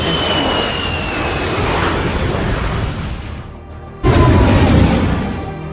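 A Boeing 737-200 airliner taking off, re-created for a Lego crash scene: a loud, sustained jet engine roar that drops away briefly, then returns with a sudden heavier rumble.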